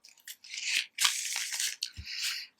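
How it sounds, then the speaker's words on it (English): A deck of tarot cards being shuffled up close, giving brisk papery riffles and crisp bursts of rustling in several quick passes with short pauses, and no voices. "And one last shuffle for Virgo."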